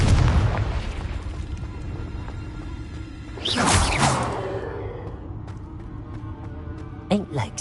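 A Confringo fire spell bursting in Hogwarts Legacy, a loud booming explosion with a whooshing rush that fades, then a sharper pop near the end, with a voice over the start.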